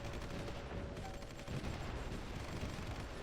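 Steady dense rumble of artillery fire and distant explosions in a strategy war game, a continuous barrage of overlapping booms at moderate level with no talk.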